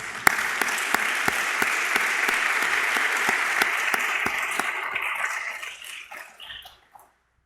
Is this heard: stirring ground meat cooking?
no